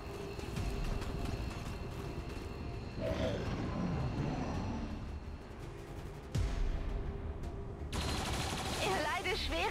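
Bursts of distant gunfire and explosive shots from the video game XCOM 2 crackle through a busy, game-like soundscape, with shifting noise and no speech.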